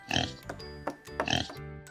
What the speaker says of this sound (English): Oh, look, a pig. What sound does the pig make?